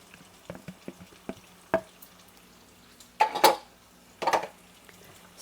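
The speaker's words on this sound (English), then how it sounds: "Stir that back up in there together." A spoon scrapes and knocks in a pot of beans as tender meat is stirred back in, a few light clinks followed by two louder, longer scraping strokes with quiet gaps between.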